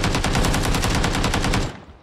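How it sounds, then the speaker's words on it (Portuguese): Rapid automatic gunfire from the video game PUBG, a loud, dense stream of shots in quick rhythm that runs steadily for well over a second before cutting off abruptly. "o cara me deu tiro de trás do muro"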